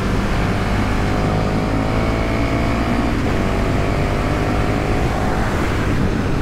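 A 2020 KTM Superduke R motorcycle engine drones steadily while riding on an open A road, with constant wind rush and road noise throughout and no distinct revving changes.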